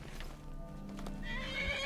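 Horse hooves clip-clop in Skyrim Anniversary Edition with a whinny, loud and steady across the moment over game background sound, with no talking.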